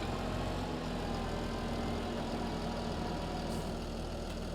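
A tractor engine idles steadily in Farming Simulator, a constant low droning hum with no variation and no talking over it.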